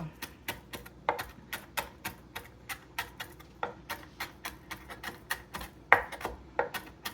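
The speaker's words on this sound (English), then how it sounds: "the jalapeno I do chop more finely" Knife chopping a jalapeño finely on a cutting board, a steady rapid series of sharp, close taps repeating about three times per second, with no talking.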